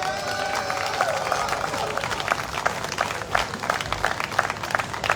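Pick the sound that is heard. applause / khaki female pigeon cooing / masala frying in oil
applause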